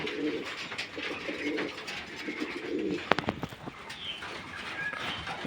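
A pair of white-faced pigeons at a pigeon farm coo in low repeated rolling calls close by, with brief wing flutters and other birds faintly around.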